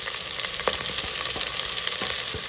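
Chopped onions sauté in butter in a single pot for a peas paneer pulao, giving a continuous close sizzle broken by a few soft taps and scrapes of a stirring spoon.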